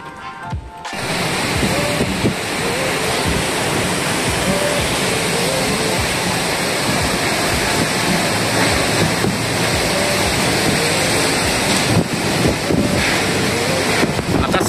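Strong typhoon wind roars continuously during Typhoon Paeng near an evacuation center, a loud unbroken rush buffeting the microphone for the whole stretch.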